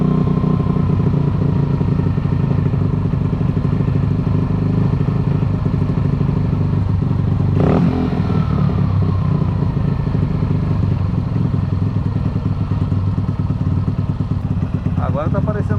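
A Yamaha Factor 2022 motorcycle engine idles steadily at close range, a continuous low mechanical rumble with a brief clatter partway through as the idle is adjusted, and voices talk briefly.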